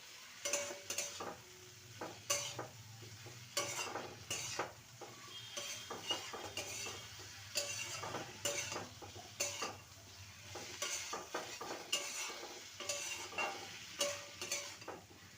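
Fried potatoes and drumstick pieces being stirred into a spiced tomato masala, with a steady sizzle beneath repeated scraping strokes of a spoon against the pan, moderately close.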